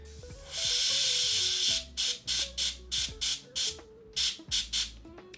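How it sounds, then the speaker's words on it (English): Airbrush spraying dark Prussian blue paint onto a Warhammer 40k Space Marine Raptors Terminator miniature: one longer hiss, then a run of about ten short, tight puffs of air, close and clear. "I'm using dark Prussian blue through the airbrush. So I'm just going to give this a few tight little puffs"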